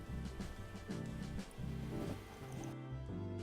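Screen wash and water poured slowly into the washer reservoir of a 2.0L diesel Jaguar X-Type, a continuous gurgling, glugging fill with rhythmic pulses, close and fairly quiet, with no talking.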